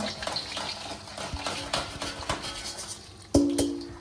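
Flour stirred into hot desi ghee in a pot for mohanthal gives soft scraping and sizzling strokes, with clinks of the utensil against the pan and a sharper knock near the end.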